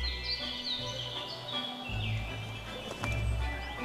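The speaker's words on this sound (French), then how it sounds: "Le pouillot véloce s'est installé dans un buisson." A common chiffchaff sings from a bush, its faint high chirping notes repeating over low rumbling background noise.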